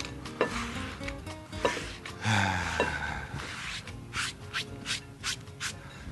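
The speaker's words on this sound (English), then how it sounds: "Slide them into a decent sized bowl." Sliced Spanish onions slide and rub into a bowl, a series of soft scraping and swishing sounds with a few light knocks, close and fairly quiet.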